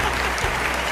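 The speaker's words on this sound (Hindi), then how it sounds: "आपके लिए तालियां" A short burst of dense, even applause from an audience, continuous and full throughout the brief moment.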